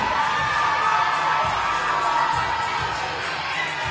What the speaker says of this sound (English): There's our crowd. Our crowd is hyped up. They are ready to go.